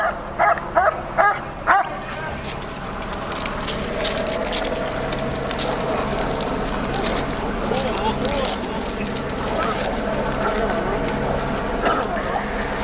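A police K-9 dog barks and yips a few times at the start, then the sound turns into steady loud noise and rustling, with voices talking over it.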